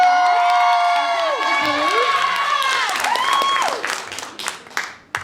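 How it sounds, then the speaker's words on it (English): A school assembly crowd at an AAPI heritage celebration claps and cheers for the tech crew, steady loud applause with whoops and children shouting that fades out over the last second or two. "Also, I want to give a round of applause for our tech crew."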